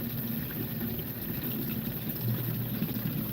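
Water poured outdoors beside a house during garden chores in a greenhouse garden, a steady, close splashing pour running throughout the short clip with no talk.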